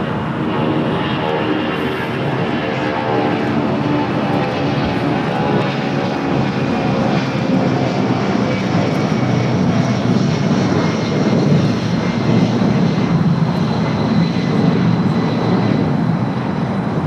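A United airliner on its takeoff roll from runway 25 right at LAX sends out a loud, steady, unbroken engine roar that holds for the whole stretch.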